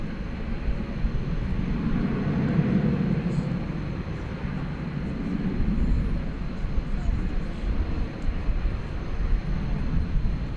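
A Qatar Airways Airbus A350-1000 departs Dallas Fort Worth airport for Doha, a fairly faint, distant low jet rumble swelling and easing across the stretch, with a voice briefly audible.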